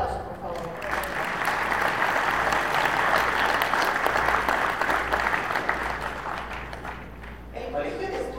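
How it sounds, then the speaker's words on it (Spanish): A large audience applauds steadily at an awards ceremony, sustained clapping lasting several seconds and tapering slightly near the end before picking back up. "Un aplauso, por favor."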